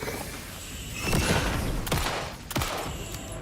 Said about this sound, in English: That was a good hip fire shot she did there.